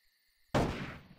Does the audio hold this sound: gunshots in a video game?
yes